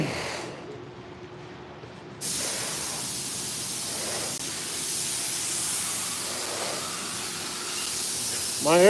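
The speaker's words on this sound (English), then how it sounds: "My air compressor, it is a 54 CFM, I believe." An air compressor feeds a spray gun priming car parts, giving a steady, close hiss that jumps louder after a quieter start and holds evenly, with a brief sharper burst at the very end.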